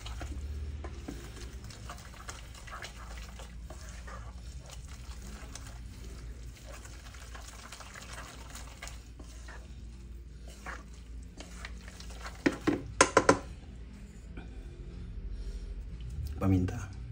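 Carbonara is stirred in a pan over low heat with the burner just turned off, giving a soft, faint sizzle and quiet scraping, with a voice talking over it and a few louder clanks near the end.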